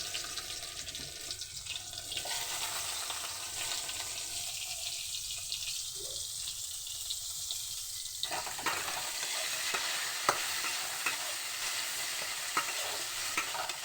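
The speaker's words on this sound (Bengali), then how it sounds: "এবার আমি টমেটো আর পেঁয়াজটাও দিয়ে দেবো, বেগুনের সাথে সাথেই ভাজা হয়ে যাবে" Eggplant sizzles in a pan as tomato and onion are added and stirred, a close, steady hiss of frying with scraping from the stirring and a brief pause in the sizzle midway.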